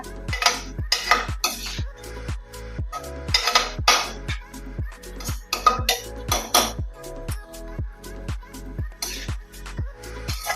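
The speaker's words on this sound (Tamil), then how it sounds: "ரெண்டு நிமிஷத்துக்கு ஒரு முறை கீரையை நல்லா மிக்ஸ் பண்ணி விடுங்க" A metal spoon knocks and scrapes against a cooking pan while greens (keerai) are stirred, giving a steady series of sharp clinks and scrapes close by, with no talking.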